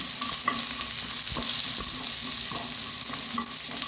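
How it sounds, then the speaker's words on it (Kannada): Pieces of okra frying in hot oil for a South Indian ladies finger chutney, a dense, even sizzle broken by regular spoon knocks and stirring scrapes against the pan. "ಬೆಂಡೆಯ ತುಂಡುಗಳನ್ನು ಇದರಲ್ಲಿ ಹಾಕಿ ಇದನ್ನು ಎಣ್ಣೆಯಲ್ಲಿ ಒಳ್ಳೆ ಫ್ರೈ ಮಾಡಿಕೊಳ್ತಿದ್ದೇನೆ"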